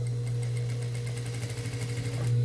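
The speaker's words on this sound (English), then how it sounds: "You guys at home with your home machines should be able to sew right over your pins." A home sewing machine stitches fabric over pins at a slow pace: a steady low motor hum with a rapid, even needle clatter, close and alone with no talk.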